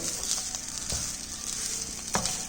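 Fish roe stir-fry sizzling steadily in an open pan, a loud continuous fry hiss with a couple of soft stirring scrapes, close up and with no talking.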